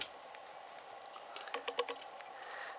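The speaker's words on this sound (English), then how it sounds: "So all I do is cut about 6 inches with the wire cutters." Wire cutters snip coil wire from a Coilmaster coil-building kit, giving a short cluster of faint, sharp metallic clicks close by in an otherwise quiet room.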